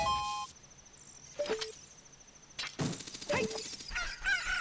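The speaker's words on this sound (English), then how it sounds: "right as the rooster crows" A rooster crows in The Legend of Zelda: Ocarina of Time, a drawn-out game sound effect set among chiming in-game tones and other short effects, fairly loud with no talking.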